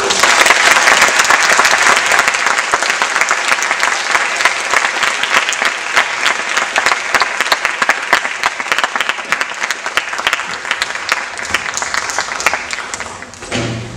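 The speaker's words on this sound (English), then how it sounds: "could I please have a round of applause?" A debate audience gives sustained, dense applause as speakers take their seats, loud and continuous for the whole stretch, slowly thinning near the end with no talking over it.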